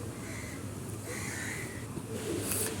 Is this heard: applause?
no